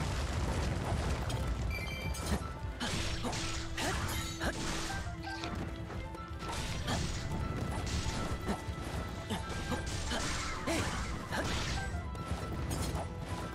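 Explosion from the video game Hyrule Warriors: Age of Calamity, a loud, dense crash and boom with continuous clattering game effects throughout, no talking.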